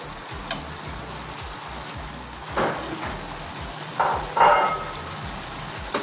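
Fried tilapia pieces sizzle faintly in a pan for a home-style fish bhuna with a little water added, a steady low hiss with a few brief louder crackling bursts toward the end.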